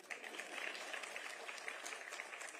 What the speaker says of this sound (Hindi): अगर दिल कर रहा है ताली मारने का तो बताइए।